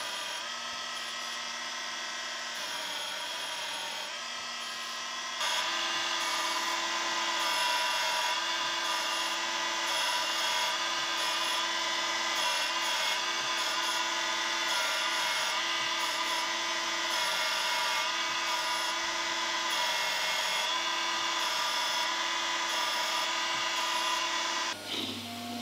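A surface grinder works a metal tool post part for a lathe quick change tool post, giving a steady high-pitched whine with a continuous grinding hiss that runs unbroken and fairly loud, then cuts off abruptly at the end.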